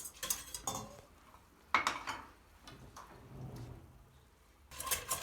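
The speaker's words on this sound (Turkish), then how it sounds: "Bir su bardağı da şekerimiz var. İyice çırpıyoruz." Sugar is whisked into a cherry jelly pudding mixture. Quiet, irregular metallic clinks and taps from the utensil against the bowl come in short clusters, sparse in the middle and busier at the start and end.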